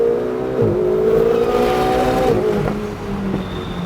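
A Ferrari accelerates on a race track, its engine note climbing in a loud, close, sustained drone with a shift in pitch partway through, then easing off slightly toward the end.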